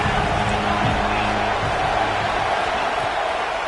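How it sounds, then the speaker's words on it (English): Stadium crowd roaring behind the home defense on a big third down at a football game, a steady loud wall of cheering with low voices and band-like tones swelling beneath it. "Big 3rd down as the crowd gets behind this defense"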